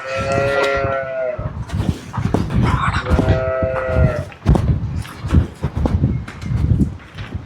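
Holstein Friesian dairy cows and newborn calves on a farm moo loudly and close up, with several long overlapping calls separated by shuffling and breathing noises and no talk.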